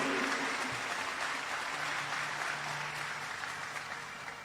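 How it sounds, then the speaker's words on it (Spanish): A church congregation applauds during a Spanish-language sermon, a steady wash of clapping that gradually tapers off, with faint tonal sounds underneath. "Bien fuerte aplauso para el Señor"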